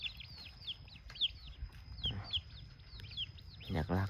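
Several chickens cluck close by in a village setting with a decoy rooster for fowl trapping, quick chirpy calls repeating throughout, with someone speaking quietly underneath and a louder voice near the end.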